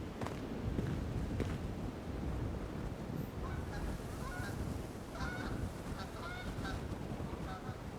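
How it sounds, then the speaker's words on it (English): Geese in the game Amerzone honk repeatedly at mid-distance, their calls rising over a constant bed of wind and rolling surf, growing more frequent toward the end. "I don't really know my birds. Are these like geese?"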